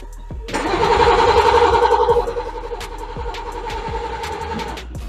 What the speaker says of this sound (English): I end up cranking the vehicle 3 times for 10 seconds each time for it to build oil pressure.